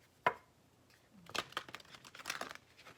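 Tarot cards are shuffled by hand: one sharp snap, then quiet bursts of papery riffling and flicking in a calm room.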